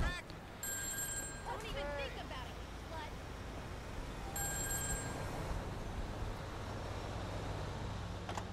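Payphone booth ringing in the GTA 5 video game, repeated electronic ring bursts in two spaced groups over steady city and engine ambience, with someone talking throughout.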